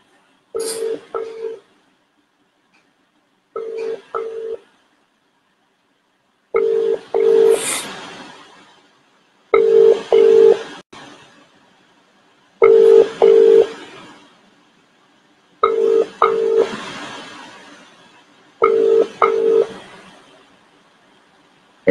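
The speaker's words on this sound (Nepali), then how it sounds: "अब एजेन्टलाई फेरि एकचोटि कल गरौँ" A phone call to an agent rings out unanswered, repeated ringback tones sounding in regular paired bursts with silent gaps between them, clear and close.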